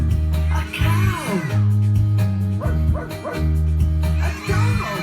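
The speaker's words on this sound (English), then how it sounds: "A dog." Dog barking on a farm, a series of rhythmic bow-wow barks and yips repeating in quick bursts, loud and close, with a melodic backing tune underneath.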